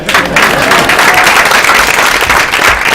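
Comedy club audience applauding in a dense, steady burst of clapping that fills the room, close and loud throughout, with faint crowd noise mixed in.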